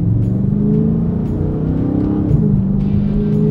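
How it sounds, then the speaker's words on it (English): A 2018 Dodge Charger Scat Pack sedan with a 485-horsepower engine accelerates hard and loud from close by, its engine note rising and dropping through quick gear shifts with a steady roar throughout. "I am so surprised at how fast the transmission shifts"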